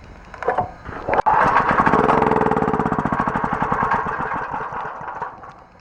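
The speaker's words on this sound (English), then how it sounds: "But if we put a little fuel into the intake, it will run off that very briefly." A Titan industrial generator engine with a faulty carburetor fires up on fuel poured into the intake, running loud and rough with rapid chugging pulses for a few seconds, then sputtering and dying away.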